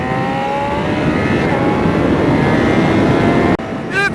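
A superbike, a Ducati V4R or BMW HP4, on a hot lap around a race track, its engine howling loud and continuous with shifting pitch, then an abrupt drop and a rising wail near the end.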